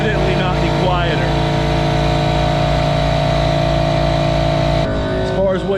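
A Metabo air compressor runs steadily and loudly throughout, a constant droning hum with a slight change in tone near the end, and a voice talks over it.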